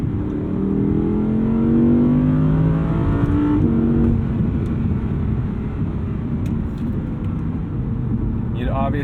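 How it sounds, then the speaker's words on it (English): A naturally aspirated car engine revs up on the throttle, its tone climbing quickly to a loud peak and then settling into a steady, rumbling drone heard close up on a street. "That's the beauty of these NA engines, is that their throttle response is immediate."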